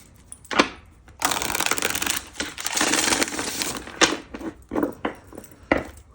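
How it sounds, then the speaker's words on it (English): Riffle shuffling of playing cards, a crisp fluttering burst followed by several shorter ruffles and taps, close and fairly loud with no talking. "One more shuffle."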